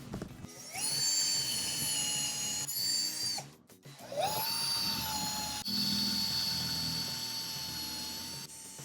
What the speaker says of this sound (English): we're going to pre-drill 4 holes using a 3/16 of an inch drill bit